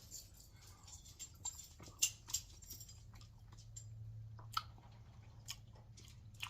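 Faint close-up chewing of barbecue pork with bark and a homemade rub, with soft wet bites and a few sharper clicks over a low steady hum, quiet and intermittent.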